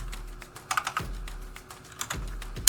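Keys clicking on a computer keyboard in short irregular bursts, close and moderately loud, with a few sharper keystrokes and brief pauses between clusters; no voices.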